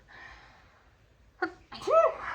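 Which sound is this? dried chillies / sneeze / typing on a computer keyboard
sneeze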